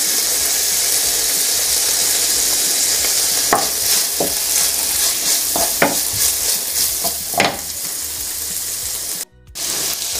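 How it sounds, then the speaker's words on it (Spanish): Bacon frying in a pan gives a loud, continuous close-up sizzle and crackle, with a few scrapes and stirring clicks over the hiss. "Cuando veamos que nuestro bacon coge color, lo apartamos de la sartén y lo echamos a nuestra olla"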